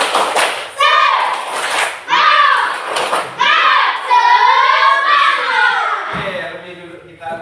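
A classroom clapping routine, 'tepuk semangat', rings out as standing pupils clap in short rhythmic bursts alongside loud chanted voices, the final round trailing into talk.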